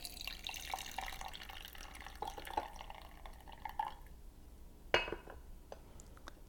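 Brewed tea, an oolong about 30% oxidized, being decanted from its brewing vessel, with faint watery trickling and drips and a few light clinks of glass or ceramic, then one sharp clink near the end.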